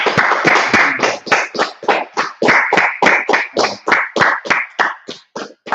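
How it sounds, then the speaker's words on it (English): A church congregation claps together in a steady, loud rhythm of sharp hand strikes, about three per second, with no voices over it. "Clap it up."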